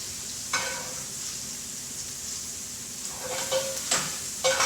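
Wild ramps fry in browning butter in a pan, a continuous soft sizzle with occasional louder crackling spurts and faint clinks, no talking.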